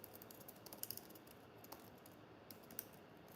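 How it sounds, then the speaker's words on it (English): Typing on a computer keyboard during a cozy evening chat stream, faint quick clicks and taps scattered over a quiet hissy room background, no talking. "Let me type."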